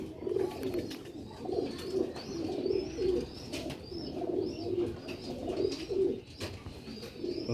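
Sialkoti black-faced pigeons cooing on a rooftop loft, with repeated soft, throaty coos that rise and fall in a loose rhythm, close by and steady, over light background noise and no talking.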